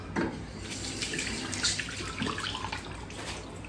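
Tap water running steadily into a sink to wet a hairpiece, a close continuous splashing rush with a few brief louder spatters, no talking.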